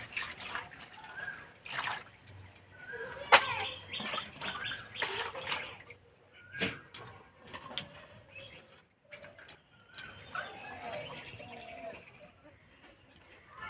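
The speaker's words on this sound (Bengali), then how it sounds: "সব আলু কেটে নিয়েছি, এবার 2 থেকে 3 বার জল পাল্টে পরিষ্কার করে ধুয়ে নেব।" Cut potatoes for crispy potato pakoras are swished and rinsed by hand in a bowl of water, with close, irregular sloshing, splashing and dripping that rise and fall in bursts.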